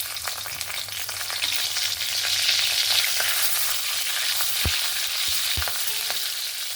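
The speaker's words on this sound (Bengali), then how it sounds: "লঙ্কা আর তেজপাতাটা সুন্দরভাবে ভাজা হয়ে গেছে।" A slit green chilli and bay leaf fry in oil in a kadai, giving a steady bright sizzle throughout with a few soft knocks and no voices.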